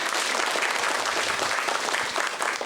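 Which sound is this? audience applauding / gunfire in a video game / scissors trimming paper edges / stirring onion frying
audience applauding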